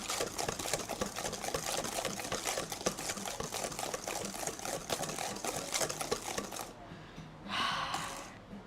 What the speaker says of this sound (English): How long have I been whisking this for now?